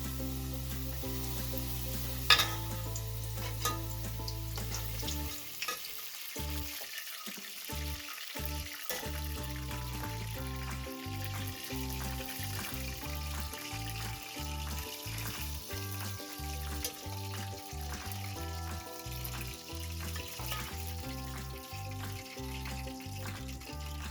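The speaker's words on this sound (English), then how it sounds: "We fry them till they turn golden brown." Kenyan beef samosas frying in hot oil, a steady close sizzle and bubbling running throughout alongside tonal background music.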